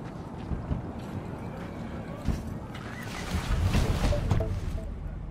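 A car rolls along a street in Cyberpunk 2077 with a continuous low rumble of engine and road noise that swells toward the end, while a voice comes in briefly.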